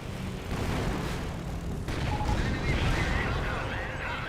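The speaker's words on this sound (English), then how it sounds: "And here comes a bombing run." Aerial bombing run in Company of Heroes, a rolling series of heavy explosions and booming blasts that swell after the first seconds and stay loud throughout, with a voice commentating over them.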